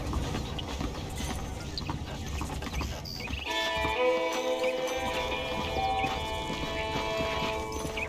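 Horse hooves clop amid a busy outdoor ambience in Red Dead Redemption, with faint fowl clucking and tonal background hum.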